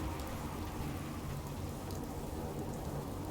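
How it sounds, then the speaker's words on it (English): Steady rain in the post-apocalyptic video game Fallout 4, a dense continuous hiss of falling drops at even loudness throughout, with no voices over it. "Oh look, it's the Irish weather,"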